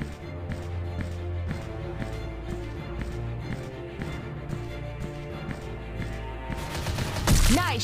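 Rapid bursts of gunfire from the mobile first-person shooter FlashPoint, a steady rattling fusillade over a low game soundtrack, ending in a louder sweeping effect.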